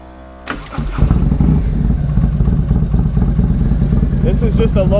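A 2024 Harley-Davidson M8 V-twin motorcycle fitted with a performance cam cranks and fires at close range, then settles straight into a loud, steady, rumbling idle.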